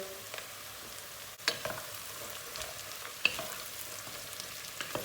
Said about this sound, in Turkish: Tam bu aşamada 250 gram fasulyesini atıyoruz içine